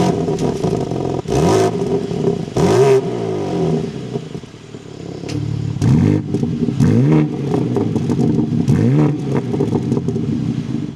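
A 2025 BMW M3 xDrive Competition engine starts and then revs in several loud, close blips that rise and fall, with a rumbling idle between them and no talk.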